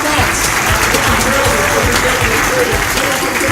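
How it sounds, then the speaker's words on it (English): An audience at a live mentalism stage show breaks into loud, close applause, a dense continuous burst of clapping with a voice or two mixed in, lasting a few seconds. "Give him a big round of applause."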